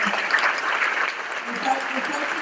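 A church congregation at a Hispanic Catholic Charismatic Renewal gathering applauds in a dense, continuous wash of clapping, with voices mixed in underneath.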